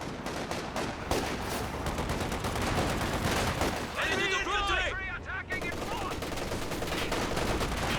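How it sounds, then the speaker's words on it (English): Rapid bursts of MG34 machine-gun fire in a Company of Heroes 2 battle, dense and continuous amid other gunfire and explosions, with a voice talking over the action. "Big burst from the MG34"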